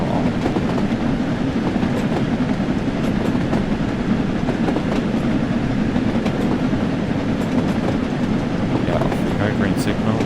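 A Jubilee steam locomotive runs on the Peak Forest route between Buxton and Manchester in Train Sim World, a loud, continuous rolling rumble with faint wheel clatter throughout.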